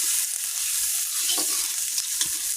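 Potato curry with fennel seeds, turmeric and ginger stir-frying in a pan, a loud constant sizzle with a few soft scrapes of a spatula through the mixture.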